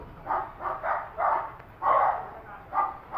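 Dog barks in a rhythmic series of short bursts, about eight over a few seconds, moderately close, with some faint background noise between them.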